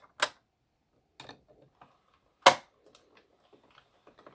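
An AddiExpress Kingsize circular knitting machine turning, sparse sharp plastic clicks and ticks at irregular intervals with faint mechanical rattling between them, close and quiet.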